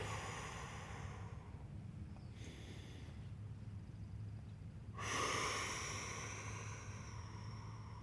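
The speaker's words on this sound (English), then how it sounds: "Focus on inhaling through the nose and exhaling through the mouth." Slow, deep breathing during a stretching routine, a soft nasal inhale followed by a louder, airy exhale through the mouth, close and quiet with no talk.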